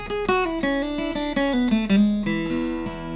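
Electric guitar playing a Texas blues lick in E, drawn from the open-position Mixolydian scale, with quick picked notes, bends and a rhythmic phrase at full speed, played solo with no voice.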